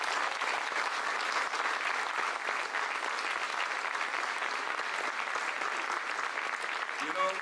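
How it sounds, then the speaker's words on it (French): An audience applauds steadily after a mayor's speech, a thick, continuous wash of clapping that holds at an even level throughout, with a brief voice near the end. "je pense qu'il mérite aussi une très bonne main d'applaudissement"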